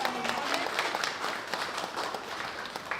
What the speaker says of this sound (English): a big round of applause for everyone from Vanuatu